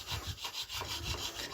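Tool carving and scraping into a sculpture block, a soft rhythmic rubbing and rasping in repeated strokes, faint and close, with no voices.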